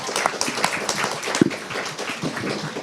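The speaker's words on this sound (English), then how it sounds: "please give a big round of applause to our great panelists" An audience at a European policy summit applauds a conference panel, a continuous crowd of clapping hands with a few sharper individual claps standing out close by.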